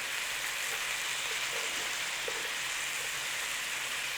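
Chili spices (chili powder, cumin, smoked paprika, black pepper and salt) with lean beef chunks being stirred in an oiled pan give off a steady, even sizzle and hiss with a few faint clicks, heard alone with no talk.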